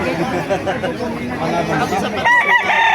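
A rooster crows loudly at a chicken market in Bocaue, Bulacan, Philippines, over steady crowd chatter and nearby talking, with the call rising clearly near the end.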